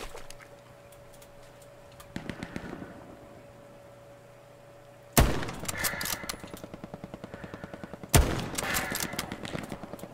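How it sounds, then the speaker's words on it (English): Sharp gunshots with a headshot hit effect in the World War II shooter Hell Let Loose, two loud cracks several seconds apart, each followed by a ringing, clattering tail over quieter background game noise. "The headshot sound has got to be the best ever."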